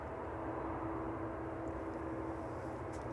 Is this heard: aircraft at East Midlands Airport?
yes